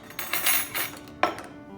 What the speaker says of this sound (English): Now all the sugar and the spirit's been dissolved, so I'm gonna add my ice